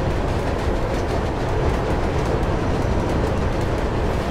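A train roars past in the Mirror's Edge video game, a loud, dense, continuous rumble with faint rhythmic clatter over its full length, and no talk.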